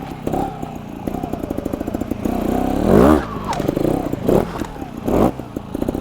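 A 2021 Beta EVO 300 trials motorcycle putters and blips while being ridden through a section, with the engine rising and falling in short revving bursts and a loud, close, rapid throb.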